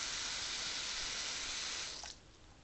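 Water from a bathroom sink tap runs in a steady, loud hiss, then cuts off near the end, leaving a quieter drip-like trickle, with no talking.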